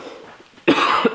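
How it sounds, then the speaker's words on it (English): A single loud, close cough erupts abruptly after a quiet moment of low background noise, with a short rough tail. "I have to cough so bad."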